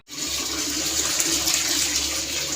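Water pours steadily into a cooking pot of beef feet, a continuous splashing gush that stays loud and even from start to finish, with no voices.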